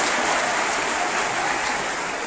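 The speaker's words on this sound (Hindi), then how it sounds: "एक बार जोरदार ताली अपने लिए" Children at a school gathering in Dibai clap for themselves, a steady dense wash of applause filling the whole moment with no voices over it.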